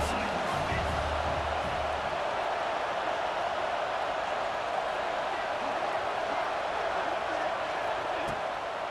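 Steady stadium crowd roar in the EA Sports College Football 26 video game, a dense continuous wash of noise held at an even level throughout.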